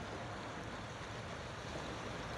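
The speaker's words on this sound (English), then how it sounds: "introducing myself from the mouth of the Baptism River as it empties into Gitchigami into Lake Superior" The Baptism River rushes steadily where it empties into Lake Superior at its mouth, a dense, even broadband roar of moving water with no voices.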